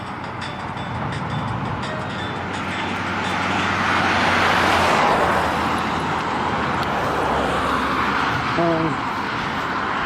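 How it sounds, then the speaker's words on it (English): Busy road traffic on a school-holiday day: a continuous broadband rumble of passing vehicles that swells toward the middle as one passes close by, then eases slightly. "there's more traffic than normal"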